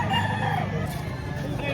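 A rooster at a market crows and clucks in a busy, steady stretch of farm-animal noise, fairly close and loud.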